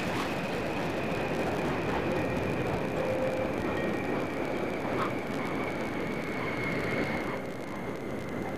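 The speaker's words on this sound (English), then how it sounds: "Atlantis rolling out on runway 15 at the Kennedy Space Center" Space Shuttle Atlantis on mission STS-104 rolling out on runway 15 at Kennedy Space Center after touchdown, a steady broad roar that holds at even loudness throughout, with no voices.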